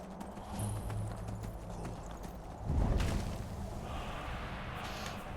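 Steady clip-clop of horse hooves in a video game at a trotting rhythm, fairly close, with a brief louder snort or rustle partway through over a soft background hum.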